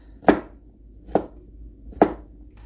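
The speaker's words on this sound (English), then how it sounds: "So we're just chopping these down into kind of bite-sized sizes." Vegetables for a rainbow salad are chopped into bite-sized pieces: three crisp knife strikes on a board, spaced evenly about a second apart, close and clear.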